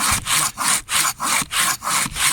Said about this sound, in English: I think it's a testament to how good this Wolf Garten saw is